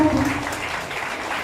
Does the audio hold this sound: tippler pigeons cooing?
no